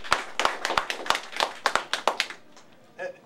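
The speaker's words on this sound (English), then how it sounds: "Let's give them an applause." Sparse clapping at an awards ceremony, a dozen or so distinct nearby hand claps in an uneven rhythm, fading after a few seconds, with a brief voice at the end.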